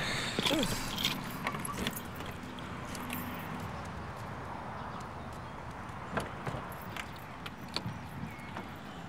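Light metallic jingling of keys in short bursts over a steady background hum, with faint movement noises and no clear talking.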